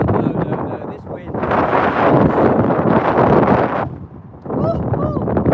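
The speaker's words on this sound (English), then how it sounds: "It's so windy, I can't talk." Strong gusts buffet the microphone during a windy outdoor dog walk, a loud rumbling roar that swells and dips, with a person talking through parts of it.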